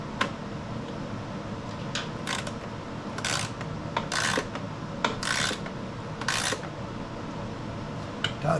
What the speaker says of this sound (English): Now we'll use the socket wrench.